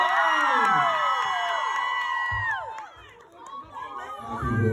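A large concert crowd in Boston cheers and screams loudly, dipping briefly before surging again.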